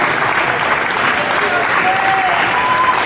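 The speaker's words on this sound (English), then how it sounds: "let's have a big round of applause for the silver medal winning team in the Lily Hooper Division" A crowd at a youth hockey championship ceremony applauds steadily for the silver medal team, dense clapping throughout with a few faint whistles.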